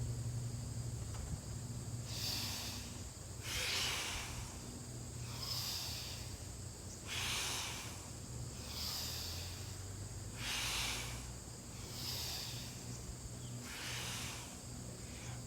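Slow, deep breathing during a gentle yoga-style practice, with several long airy inhales and exhales repeating at an unhurried, even rhythm, close and fairly soft over a low steady background hum.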